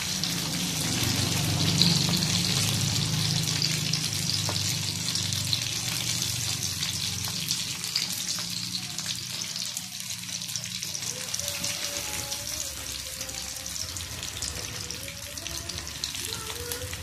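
Chicken pieces frying in oil on a low flame, a steady soft sizzle and crackle running throughout, with a faint tonal hum in the latter half.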